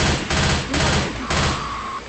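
Rapid bursts of video game gunfire erupt in close succession, loud clustered volleys with brief gaps between them, while a steady electronic tone hums under the final bursts.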